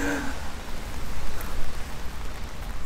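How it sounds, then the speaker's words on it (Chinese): Rain falls on the Yangtze river bank in Yichang, a steady, close patter of drops on an umbrella and the ground, continuous and even throughout without speech. "这今天在下雨"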